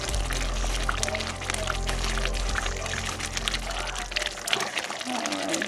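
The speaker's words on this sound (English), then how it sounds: "still frying the tomatoes" Tomatoes frying in oil in a pot for Nigerian jollof rice, giving a constant close crackling sizzle with a low hum underneath that thins out near the end.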